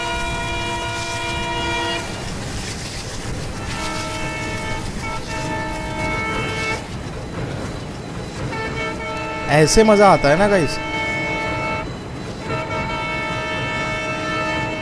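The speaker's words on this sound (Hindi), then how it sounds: "ऐसे हॉन्क मारते हुए ट्रेन क्रॉस करेगी हमारे साइड से, वो भी इतने खतरनाक चगिंग साउंड्स के साथ में" Freight train hauled by an ALCO WDM 3D diesel locomotive passes close by, its horn blaring in steady harmonic blasts over a rumbling, clattering run, with a louder squealing burst midway; a person speaks over it.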